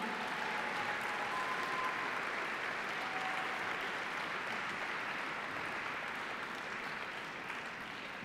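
A large audience at a high school science competition awards ceremony claps steadily for the Fairview High School team, a dense, even wash of applause heard from a distance.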